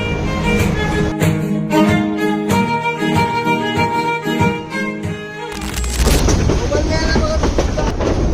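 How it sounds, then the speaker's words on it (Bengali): A train departs Chittagong bound for Cox's Bazar, its loud horn and engine drone sounding first, then steady rolling rumble and clatter as it gets under way. "অবশেষে ছয় মিনিট বিলম্বে ট্রেনটি চট্টগ্রাম থেকে কক্সবাজারের উদ্দেশ্যে রওনা দিল"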